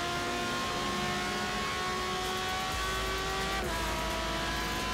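Pagani Zonda R engine in the racing video game Forza Horizon 3, a loud sustained high-revving roar with shifting pitch and a gear change partway, constant and close without any voices.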